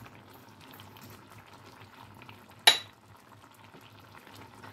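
Potatoes simmer in a pot of dudh sukto with a faint, steady bubbling, broken once by a single sharp clink partway through.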